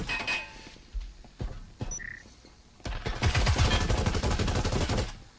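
In the VR shooter Breachers VR, guns fire through walls during a league match: a few isolated sharp shots, then a dense, sustained stream of rapid automatic fire.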